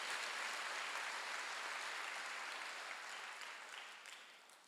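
Church congregation applauding during a Sunday worship service, a dense, steady wash of clapping from many hands that holds evenly and then tapers slightly toward the end, with no talk over it.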